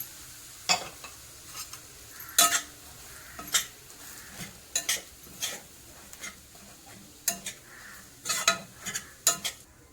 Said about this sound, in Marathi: आता आपल्याला ह्याच कढईमध्ये खारीक ही पण तुपामध्ये आपल्याला चांगली भाजून घ्यायची आहे